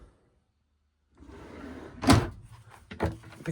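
A drawer in the kitchen of a 2020 Auto-Sleeper Broadway EB motorhome slides along its runners and then shuts with a sharp knock, followed by a second clack, close and clear in a quiet interior.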